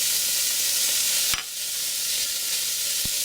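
Garlic sizzles in a pan with browned lamb fat for a lamb and Guinness stew, a steady bright hiss with a sharp clatter partway through and another brief knock near the end.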